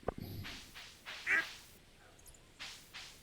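A duck quacking in the farming game Stardew Valley, a few short nasal quacks in separate bursts against a quiet background, with a brief click at the start.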